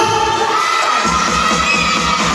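A crowd at a village singing contest shouting and cheering loudly all at once, a dense continuous roar of many voices calling out.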